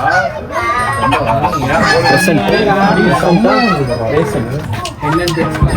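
Chickens cluck and squawk up close in a busy, overlapping chorus while people talk over them.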